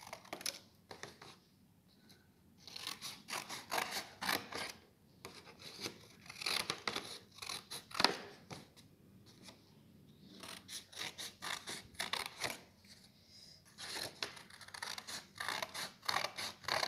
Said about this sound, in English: I'm gonna cut in a kite shape.